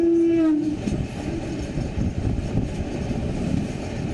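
Indian passenger train, general coach interior, with a steady loud rumble of wheels on track throughout and a brief horn-like tone at the very start.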